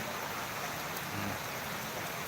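Steady rain hisses evenly throughout, a dense wash of falling drops with no voices or other sounds standing out.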